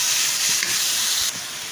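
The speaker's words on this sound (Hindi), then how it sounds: "इसको भी हम स्टर फ्राई करेंगे" Julienned boneless chicken stir-fries with onions in a hot pan for a chili garlic noodle dish, giving a steady, loud close sizzle and hiss with faint scraping underneath.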